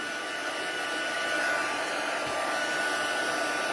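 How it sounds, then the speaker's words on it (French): A heat gun on its highest setting warms a metal embossing tool, producing a steady, loud, unbroken blowing whir for the whole stretch, with no voices. "Je commence un petit peu par l'endos pour réchauffer mon fer, mon pistolet chauffant."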